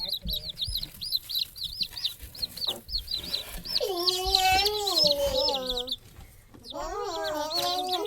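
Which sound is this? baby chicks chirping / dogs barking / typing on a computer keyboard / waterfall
baby chicks chirping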